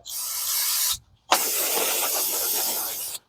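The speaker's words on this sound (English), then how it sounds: "Spray the whole assembly" Two bursts of brake cleaner aerosol spray hiss over a Ford Explorer XLT rear brake assembly, a short one then a longer steady blast after a brief pause, close and loud.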